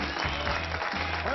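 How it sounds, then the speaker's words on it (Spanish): Brief applause from a television studio audience, a short burst of clapping under and around a voice. "Un aplauso para Abel Barriola."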